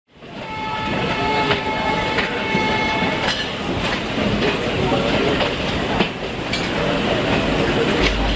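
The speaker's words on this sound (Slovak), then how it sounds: "Do Manali sa ide takouto úzkokolejovou železnicou a skoro celú cestu musí vlak stúpať" A narrow-gauge train climbs through the Himalayas toward Manali, its steady loud rumble and wheel clatter continuous throughout, with a sustained horn tone early on.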